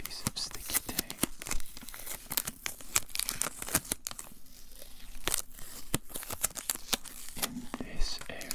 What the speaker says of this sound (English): I think a final piece of sticky tape.